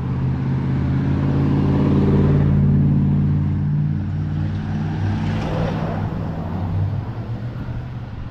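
Steady traffic rumble from cars moving along a busy road in Maine, a continuous loud engine drone with a vehicle passing close by midway, heard from the roadside on foot.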